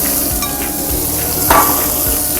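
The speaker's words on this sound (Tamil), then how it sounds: "சுண்டலில் தாளிக்கிறோம்" Mustard seeds, curry leaves, green chillies and asafoetida sizzle steadily in hot oil as a tempering for black chickpea sundal, with a few soft stirring knocks and spoon taps against the pan.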